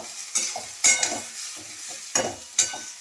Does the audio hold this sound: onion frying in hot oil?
yes